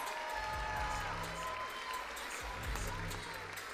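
A crowd at the Flavourama 2024 hip hop dance final applauds and cheers for the organizers, a continuous roar of clapping with low thumping and possible voices mixed in underneath.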